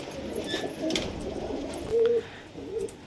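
High-flyer pigeons in a home loft coo in short, close, rounded calls, two clearer bursts standing out over a low murmur of the flock.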